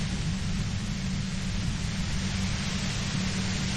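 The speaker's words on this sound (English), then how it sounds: "If you've got something really important to say, you can do it through the white noise" Steady radio static from the Disco Elysium video game, a dense, even hiss with a low rumbling bed that holds unchanged and fairly loud throughout.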